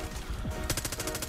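Rapid gunfire in a shooter video game, a fast burst of evenly spaced shots starting partway through after a brief lull of game noise, loud and close with no talking over it.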